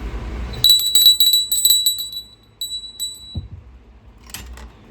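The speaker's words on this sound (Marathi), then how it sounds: "ही जी ही जी घंटा आहे ना ती मी पंढरपूरवरनं आणलेली आहे" Small ornate bell brought from Pandharpur, rung during a home puja: bright, high metallic rings in a quick cluster of strikes, then a few sparser dings fading out, close and clear.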